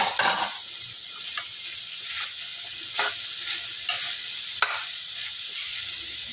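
Carrots sizzle steadily in a hot frying pan, with a constant crackle of oil and regular scraping strokes of a spatula stirring them every second or so.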